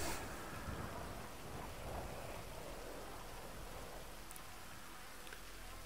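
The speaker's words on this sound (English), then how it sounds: "It's pissing down with rain." Heavy rain in the game GTA V pouring steadily as a dense, constant hiss, loudest at the start and easing only slightly, with no voices.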